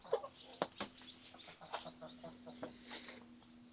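Backyard chickens cluck softly in scattered bursts with a faint steady hum beneath, fairly distant and quiet, with no voices.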